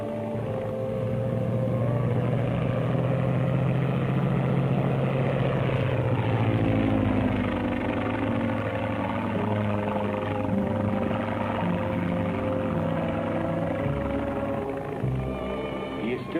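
Propeller airplane engine drone in an old radio serial, a loud steady throbbing hum that holds throughout with a slight pitch sweep midway, no talking over it.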